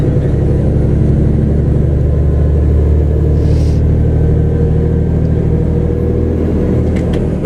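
A cold truck engine idling early in the morning, a steady loud low rumble with a continuous mid-frequency drone and no talk.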